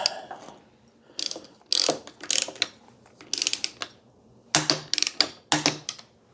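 A torque wrench tightens bolts to spec on a Kawasaki ZX12R motorcycle during a barn-find restoration, giving several bursts of close ratcheting clicks separated by short pauses, with no talk.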